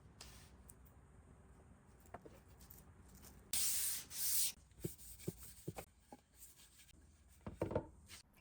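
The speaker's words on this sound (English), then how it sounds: "There's a crack right here. I'll just sand that off." A cracked walnut cutting board is sanded by hand during repair, soft scattered rubbing strokes with one louder sustained burst of sanding, plus a few light knocks.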